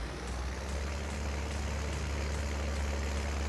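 A heavy farm vehicle's engine idles in Farming Simulator 19, a steady low diesel drone with a deep rumble, constant and close, with no talking.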